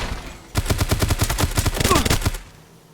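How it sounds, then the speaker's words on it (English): A hostile B-bot robot fires on the player in the survival game Dysterra: a rapid burst of about a dozen loud automatic shots over roughly two seconds, close by, ending in a brief fade, with no talk. "That right there is a B-bot that just shot me."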